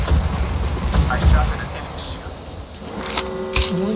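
Gunfire in the battle-royale game Apex Legends, with several sharp shots and bursts over a busy, noisy game mix while players talk throughout.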